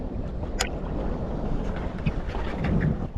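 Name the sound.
wind on choppy water in a boat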